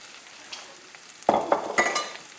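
Shrimp cooking in a pan for shrimp Newburg, a soft background sizzle broken by a few short bursts of louder spattering and stirring near the end.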